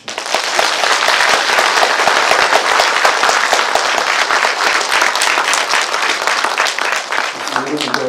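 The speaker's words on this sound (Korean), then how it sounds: "박수 한번 주십시오." A crowd at a Buddhist dharma service breaks into sustained, dense applause, many hands clapping at once, loud and even for several seconds before easing slightly at the end.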